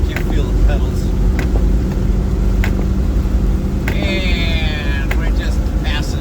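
A Land Rover Defender 110 with locked center differential drives at about 60 mph, its loud steady engine and road rumble droning continuously inside the cabin, with sharp clicks and rattles cutting through and brief talk underneath.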